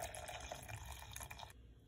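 Cold water poured into a pot for a light exotic soup with vinegar, soy sauce and spices, a steady close pour that stops abruptly near the end, leaving a quieter tail.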